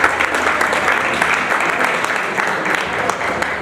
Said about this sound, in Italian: Daniela Cittone, un applauso lo merita sicuramente.